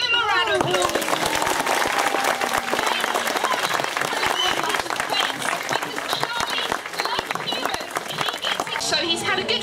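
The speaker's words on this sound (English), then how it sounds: "So once he's landed, give him a round of applause." Audience at an outdoor bird show claps loudly and continuously after a bird lands, with crisp individual claps and some voices mixed in.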